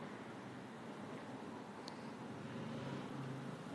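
Steady road traffic noise from cars passing outside a house, a continuous low rumble and hiss at moderate distance with no distinct individual pass-bys, the level swelling slightly toward the end.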